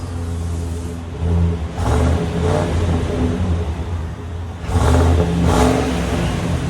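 A 2022 Chevrolet Silverado 2500HD LT with a 6.6L gas V8 and stock exhaust idles with a low rumble close by. It is revved twice, each time a fairly muted swell that settles back to idle.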